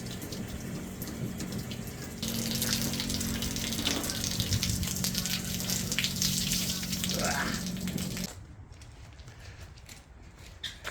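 Pink antifreeze sprays and gushes steadily out of a boat's water line during winterizing of a 1999 Tiara 3100 Open, with a pump humming beneath it. The flow runs for several seconds, then cuts off, leaving quieter background noise.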